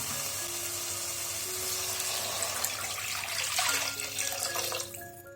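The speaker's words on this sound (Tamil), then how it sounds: "இப்ப தண்ணி சேர்த்திக்கலாம்" Water streams and splashes into a cooker pot of rice, green moong lentils, coriander and sautéed masala, a steady pouring rush with faint sizzle that thins out near the end.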